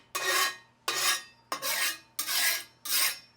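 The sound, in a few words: spatula scraping an oiled grill pan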